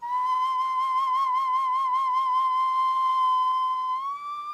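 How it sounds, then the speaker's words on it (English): A carved stone whistle, a replica of finds from Chavin, is blown in one long steady piercing tone with a slight rhythmic flutter, close and loud, sliding up a little at the end with no voices. "Whistles carved from stone."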